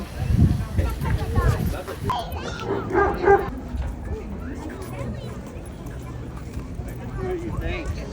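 Dogs bark and yip several times nearby amid outdoor clatter, with people talking over and between the barks.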